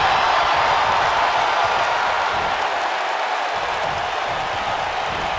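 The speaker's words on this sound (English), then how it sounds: "The whole crowd here in Seattle on their feet!" A dense, roaring arena crowd cheering and applauding continuously in a WWE 2K wrestling match set in Seattle, loud and steady throughout with no break.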